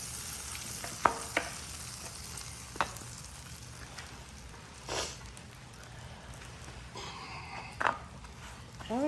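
Cuban sandwich bread sizzles on a buttered grill, a soft steady fry with a few scattered clinks and knocks from the cooks nearby.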